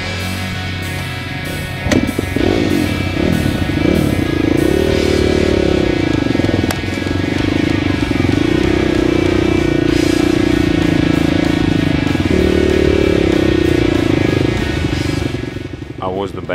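A new Honda CRF dirt bike revs loud and close in a forest rut in Bunyip State Forest, its engine droning steadily with rising and falling pitch, while voices speak over it.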